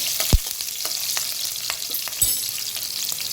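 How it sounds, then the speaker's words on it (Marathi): Sliced green chilies sauté in oil in a pan, a continuous bright sizzle with a couple of sharp knocks of a spoon against the pan, no one speaking. "त्या घालून घेऊया. हे छान असं थोडं परतून घ्यायचं"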